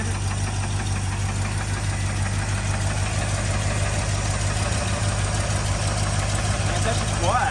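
A rescued car's engine idles in a steady, even rumble with a light ticking from the valvetrain, heard close and constant throughout.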